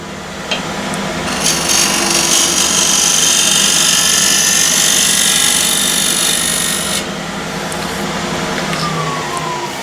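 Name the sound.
tool scraping ash wood box while turning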